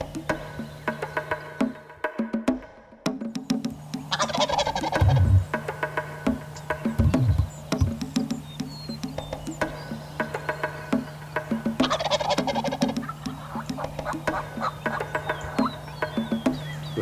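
A wild turkey gobbles out in an open field, a couple of distant rattling calls standing out over steady background chirping and croaking from frogs or insects.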